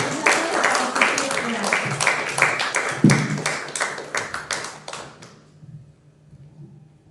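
Audience applause at a tribute event honouring Rubén Darío in Argentina, a dense burst of clapping that carries on for about five seconds before fading out, with faint room noise afterward.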